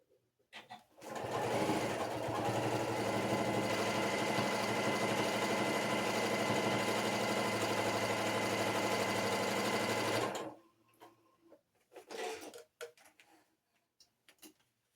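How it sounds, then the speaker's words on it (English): A sewing machine stitches a seam in one steady, continuous run of fast, even whirring for about nine seconds, then stops, leaving near silence with a few faint handling clicks and no speech. "and then you sew, it just gives you a nice smoother seam"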